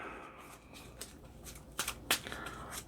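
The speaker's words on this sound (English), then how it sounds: "Lots of shuffling in this game." Cards from a Marvel Champions game deck are shuffled in quick riffling bursts, close and fairly quiet, with a few sharper snaps as the cards fall together.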